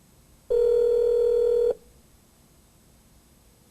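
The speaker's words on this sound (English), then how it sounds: "Dialing 1-800-719-5847. Is this correct?" A Chrysler car navigation and communication system plays a single steady telephone tone for about a second before it cuts off into quiet cabin hum.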